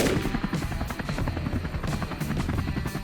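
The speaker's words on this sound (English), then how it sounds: "Shooting from a moving helicopter while the prey is constantly on the run?" A helicopter's rotor thumps steadily close by during a wild boar hunt over farmland, with rapid bursts of gunfire rattling over the drone.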